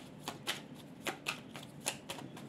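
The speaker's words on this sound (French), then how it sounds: "on me dit de vraiment faire un tirage" Tarot cards are shuffled in quiet, rhythmic riffles, several short crisp bursts spaced about half a second apart with soft rustling between.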